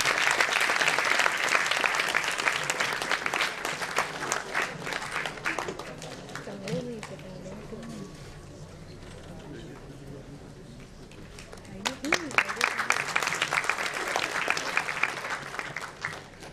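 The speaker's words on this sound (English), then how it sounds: "Please clap for her, everyone" Audience applause at a school innovators conclave, a loud burst of many hands clapping that fades to quieter moments with a voice speaking, then swells again into a second round of applause.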